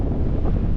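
Steady, rushing wind buffets the microphone on a fell above Blea Tarn in Little Langdale in the Lake District, a continuous low roar with no voices.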